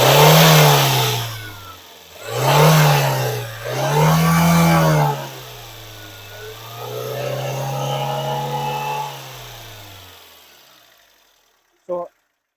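A car engine with a high-RPM or power-loss fault revs up as the throttle body is turned by hand, rising in a few strong surges, then holding a steadier drone before winding down to quiet, followed by a brief click.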